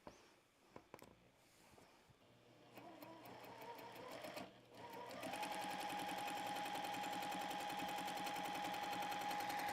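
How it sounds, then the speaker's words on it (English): A sewing machine stitching scrap fabric for an Easter basket, first a few slow starts and clicks, then a fast, even mechanical chatter that runs loud and steady for several seconds, close up with no talk. "All right, now we're stitching with thread and not air."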